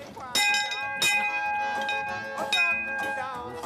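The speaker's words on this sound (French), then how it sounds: "La cloche sonne donc souvent dans le jardin magique de Simon, à la Nouvelle-Orléans" A bell rung in a garden in New Orleans when a painting sells, its bright ringing tones repeating in several strikes with lingering harmonic overtones, close and fairly loud over background sound.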